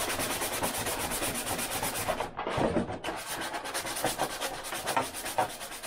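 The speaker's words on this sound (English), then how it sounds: "Like that, it sands beautiful, does this PLA." Sandpaper rubs a joint on a 3D-printed PLA aircraft fuselage for a BD-5 build, a steady close rasping scrub with a brief pause midway before the strokes resume.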